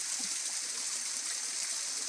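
The Mandala waterfall in Barito Utara, roughly ten metres high, produces a steady broadband rush of falling water, continuous and fairly close with no pauses.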